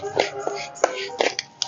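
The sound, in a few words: flax seeds crackling while roasting in a pan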